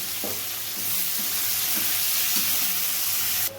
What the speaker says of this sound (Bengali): এবার তেলে পেঁয়াজ কুচি দেওয়া হচ্ছে